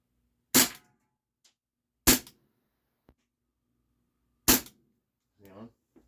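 Three sharp air pistol shots from a Luger P08 or P38 air pistol, each firing steel BBs at a can about 5.5 yards away. The cracks are loud and come at even intervals, with a faint metallic tick after one and a brief murmur near the end.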